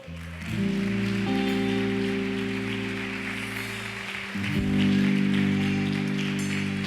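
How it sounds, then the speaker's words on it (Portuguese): A church congregation claps in praise, a dense patter of hands under loud sustained music tones that swell louder near the end. "As palmas louvam o nome do Senhor."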